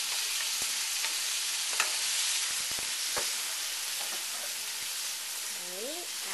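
Tomatoes sautéing in a pan with cooked garlic and onion for chicken afritada give a steady, close sizzle and frying hiss throughout, with a few stirring clatters and no talking.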